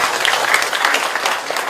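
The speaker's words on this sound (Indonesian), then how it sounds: "Tepuk tangan buat Pak Gubernur" A crowd applauds the governor at a gathering of Jakarta Islamic clerics: dense, steady clapping from many hands fills the room at even loudness, with no speech over it.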